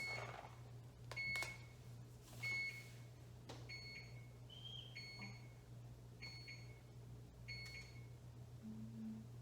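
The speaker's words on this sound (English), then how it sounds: "I'm gonna do this in the microwave" A microwave oven hums steadily while cooking rice in a new apartment kitchen, with a series of short high electronic beeps at irregular intervals over the constant low drone.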